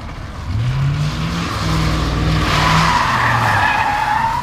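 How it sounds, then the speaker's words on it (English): A Camaro ZL1 driven hard with its tires skidding, a loud sustained screech rising and holding for several seconds under a steady engine roar. "I've literally never seen a car be whipped so hard."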